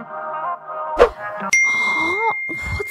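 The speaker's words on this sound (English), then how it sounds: "I can hear my phone going off, absolutely buzzing" A phone notification chimes in the Berry Avenue video game: a short run of bright ringing tones, then a brief clang and a longer, sustained electronic alert tone, all loud and close.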